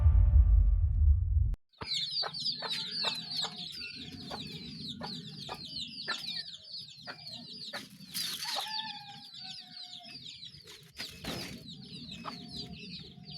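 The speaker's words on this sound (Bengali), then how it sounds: "মা মুরগিটা কি সুন্দর তার বাচ্চাদেরকে" A mother hen clucks among her chicks in a rural yard, with soft repeated clucks under a steady chorus of high, rapid cheeping from the chicks, close and clear after a brief burst of noise at the start.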